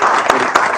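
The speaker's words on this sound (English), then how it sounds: "Let's give a round of applause for our grade 12" Applause at a school sports awards ceremony for students, a brief burst of crowd clapping with a couple of sharper individual claps standing out.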